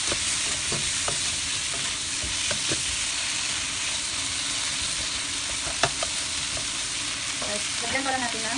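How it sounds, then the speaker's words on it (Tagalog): Salmon belly with tomatoes sizzles steadily in a frying pan, Chinese-style, with a constant loud hiss, occasional stirring clicks and scrapes, and no talking. "Let's just fry a moment."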